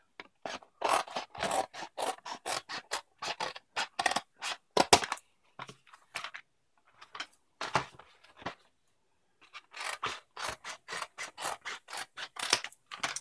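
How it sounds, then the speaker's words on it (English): A paper trimmer slices through packaging for a scrapbook page, giving repeated short scraping cuts in close, loud bursts with a few brief pauses between runs. "Just do a rough cut and then I'll use my trimmer."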